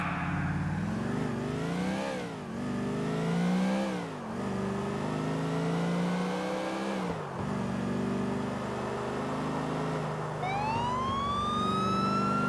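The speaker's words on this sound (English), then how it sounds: "Put the lights on, put the sirens on" Police car siren in GTA IV wailing loudly and continuously, sweeping up and down in pitch over an engine drone, with a brief high tire squeal near the end.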